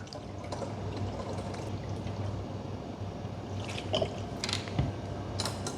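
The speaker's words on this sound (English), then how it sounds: "we can pour in the descaler we're about to use" Descaler being poured into a hot coffee machine, a soft continuous trickle and splash with a few brighter drips near the end.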